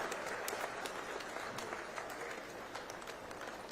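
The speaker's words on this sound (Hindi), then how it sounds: "जोरदार तालियां।" Loud, sustained applause from a large crowd, dense clapping filling the whole moment without pause.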